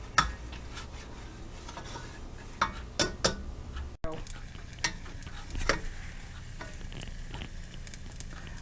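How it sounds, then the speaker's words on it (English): Chopped celery and scallions sizzle in hot oil in a pan on a high burner, a soft continuous fry with occasional sharp clicks and utensil taps, fairly quiet. "I put one little piece in there to make sure it sizzles. Yeah, it sizzles."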